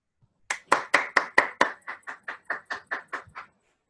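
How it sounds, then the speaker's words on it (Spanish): About fifteen sharp, evenly spaced claps ring out in quick succession from a live audience, spontaneous and fairly close, starting strong and tapering off after a few seconds. "los aplausos son espontáneos y son con mucho cariño"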